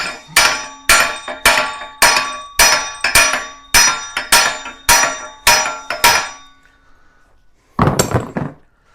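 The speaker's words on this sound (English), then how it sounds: "I'm going to take my hammer and my other hammer" A dozen sharp, ringing metal-on-metal hammer strikes in a steady rhythm, each decaying briefly, followed by a pause and one final clanging blow.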